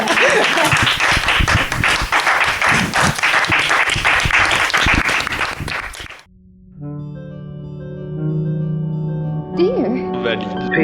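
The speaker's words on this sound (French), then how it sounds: "vous pouvez applaudir maintenant" Audience at a lecture's question session breaks into loud, dense clapping for about six seconds, then it cuts off abruptly and steady electronic tones follow.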